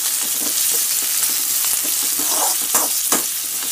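Chopped onions and garlic sauté in a pan of hot oil for a ridge gourd kootu, giving a dense, steady close-up sizzle with faint scrapes of stirring.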